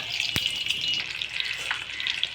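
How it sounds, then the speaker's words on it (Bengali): Steady high-pitched sizzling of an egg frying in a pan with spices and garlic, with a sharp clack partway through and faint stirring scrapes. "ডিমটা সুন্দরভাবে হালকা হালকা ভাজা হয়ে গেছে"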